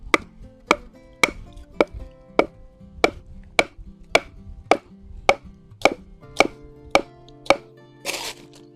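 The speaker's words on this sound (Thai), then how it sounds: "เอา เหล็กนะครับ วางแล้วก็ตอกลงไปนะครับ" Fifteen sharp metal-on-metal strikes land at a steady, brisk rhythm as an iron rod is hammered into soil, ending with a short scuffing rustle.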